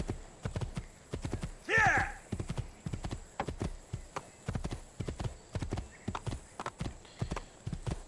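Horse hooves clip-clopping in the video game Assassin's Creed II, a steady close rhythm of hoofbeats with a short whinny near the start, under a game's ambient backdrop.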